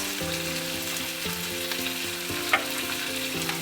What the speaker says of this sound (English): we'll saute all these for another 2 minutes